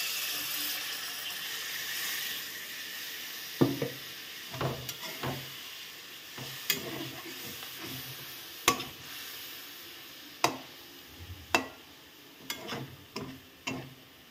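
Spices sizzle faintly in a kadai under a low background hiss while a spoon stirs and scrapes with a series of sharp, irregular clinks and taps against the metal.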